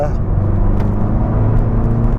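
A VW Golf GTI engine roars steadily and loudly close by at full throttle, a continuous drone with no clear pauses.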